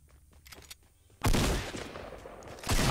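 Loud blasts of gunfire in a Fortnite match, a sudden heavy burst followed by sustained noisy firing and a second strong blast near the end, with no talk.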